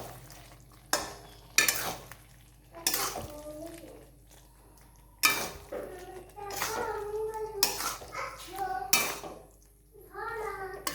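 Fried okra poured into a bubbling pan and mixed, with clinks of a utensil against the pot and a soft sizzle, while a voice talks intermittently over it.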